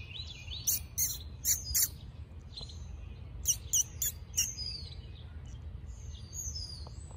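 Loud, high-pitched chick-like bird chirps come in two quick bursts of repeated calls near the start and middle, over a steady low rumble of background noise.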